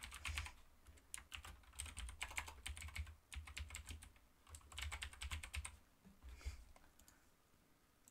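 Fast bursts of typing on a computer keyboard, crisp clustered key clicks in irregular runs with short pauses, close and fairly quiet.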